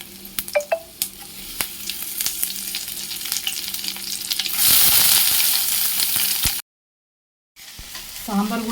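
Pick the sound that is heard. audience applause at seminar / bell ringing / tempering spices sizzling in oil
tempering spices sizzling in oil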